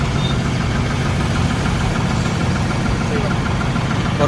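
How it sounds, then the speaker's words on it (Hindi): A New Holland 5620 CRDI tractor engine idles close by, giving a loud, steady low rumble with no pauses. "यहाँ पे साउंड अलग रहेगी ट्रैक्टर की"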